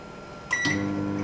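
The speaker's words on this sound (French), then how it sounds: "Maintenant, appuie sur le micro-ondes" A microwave oven starts up to melt butter and chocolate: a short button beep, then a steady low electrical hum that carries on alone.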